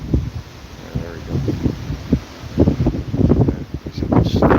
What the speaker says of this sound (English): These are those 50 to 60 mile an hour gusts of wind.